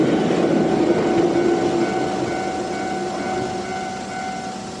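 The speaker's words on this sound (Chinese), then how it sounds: "一列从岩仓寺开往电铁富山的列车刚刚驶过" Train from Iwakuraji to Dentetsu Toyama near Minami-Toyama station, with a loud, sustained rolling rumble and faint steady tones fading slightly as it passes close by.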